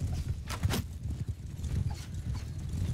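Cavalry horses gallop in a medieval battle in the video game Mount and Blade Bannerlord, a busy rumble of hoofbeats and clattering over steady low background noise with no talking.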